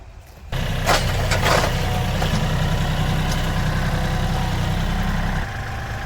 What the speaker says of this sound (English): I'm going to get the tractor.